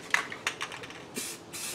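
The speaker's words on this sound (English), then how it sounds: "There you go, spray from far away." Spray-paint can applying a third coat to Honda CR-V trim and bumper: a few light taps and clicks, then two short, close hissing bursts of spray near the end.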